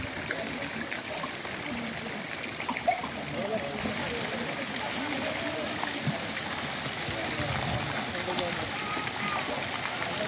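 Seawater flows in at a beach resort, a continuous trickling and rushing wash with small splashes, moderately faint and steady throughout.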